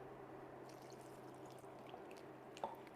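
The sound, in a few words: water being poured into a pot for chicken laksa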